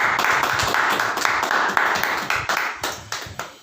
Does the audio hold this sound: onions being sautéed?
no